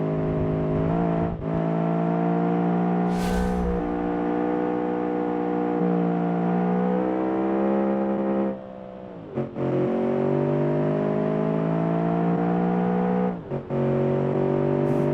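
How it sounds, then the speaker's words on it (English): Sports car in the game Automation, its exhaust with no baffling, revs loud and harsh through the gears, the pitch climbing steadily, then dropping briefly at each shift before rising again, with no talking over it. "I think this one had no baffling whatsoever on the exhaust."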